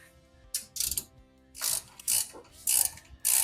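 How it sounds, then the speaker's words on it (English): A ratcheting wrench clicks in short, close bursts while loosening a fastener on the front beam of a Volkswagen being restored, with uneven pauses between the strokes. "I have a ratcheting wrench."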